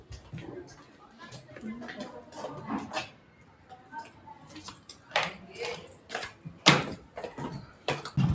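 Keys jangling outdoors during a trip to a hilltop temple in Raigarh, a few bright metallic rattles and clinks scattered among talk, with the loudest jingle near the end.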